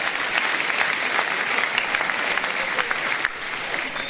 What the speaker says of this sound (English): Round of applause for the members. Give yourselves a round of applause.